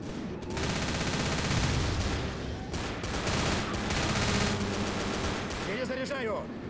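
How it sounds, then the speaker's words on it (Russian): Gunfire in the zombie shooter Left 4 Dead, rapid sustained automatic bursts rattling loudly almost nonstop, with a brief voice near the end. "Классный выстрел, сынок."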